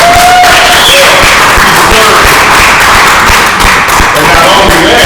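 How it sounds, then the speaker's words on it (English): An audience gives a loud, sustained round of applause, dense clapping from many hands filling the room without pause, with some crowd noise mixed in. "Give that man another round of applause."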